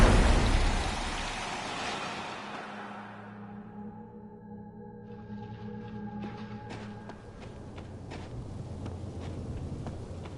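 A psychic storm in the video game Life is Strange Double Exposure: heavy rain opens loud and dense, then fades into a quieter, eerie tonal drone with scattered crackling drops and faint rumbles.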